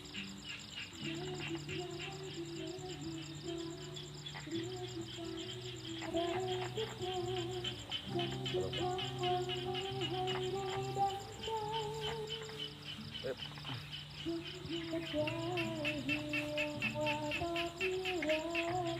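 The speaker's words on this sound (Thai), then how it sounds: "ไปฟังเสียง กบ เสียงเขียดครับ" Frogs croaking at night in rural Thailand, mixed into a dense, steady chorus of insects, with overlapping droning calls and fast trilling pulses continuing throughout at a moderate distance.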